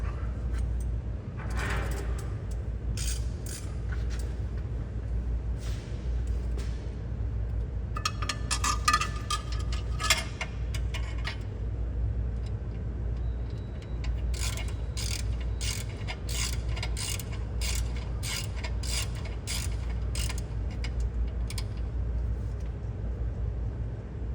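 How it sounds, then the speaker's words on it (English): A ratchet on a long swivel extension tightens a turbocharger bolt on a 2019+ Mercedes Sprinter with the 642 engine, giving bursts of rapid clicking over a steady low background hum, with no talk. "Just use a very long extension with a swivel to tighten it up."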